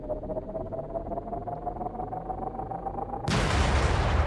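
A plasma gun blast in modded Minecraft goes off abruptly after a quiet stretch with a steady tone, a sudden loud burst of noisy rumble that sustains to the end.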